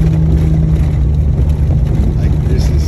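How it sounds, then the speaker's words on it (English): A Jeep rolls along a rough dirt road, its engine and road rumble forming a loud, steady low drone heard from inside the cabin. "Actually, the Jeep rides pretty smooth. But you can tell it's a dirt road, guys."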